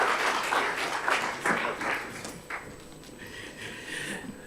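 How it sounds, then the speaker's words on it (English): Audience applause fills a conference hall at an agriculture science and partnerships event, a moderately quiet, steady wash of clapping that thins slightly toward the end. "Another round of applause to Dr. Bruce"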